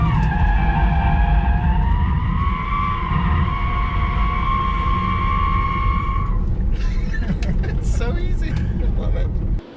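A Tesla Model 3 electric car drifts with loud, sustained tyre squeal that slides and bends in pitch for several seconds, close and continuous, then breaks into rougher scrubbing and chatter as the slide ends.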